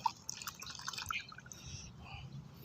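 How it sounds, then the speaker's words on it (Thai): Vinegar pours into a homemade weed killer mixture, giving a faint dribbling, splashing trickle with soft drips that fades toward the end, and a voice quietly behind it. "น้ำส้มสายชูใส่ลงไปหนึ่งขวดนะครับ"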